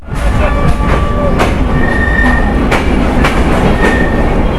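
An express train enters Airport railway station in Dhaka, rolling loudly past, wheels clacking rhythmically over rail joints with a deep rumble and faint metallic squeals, very close.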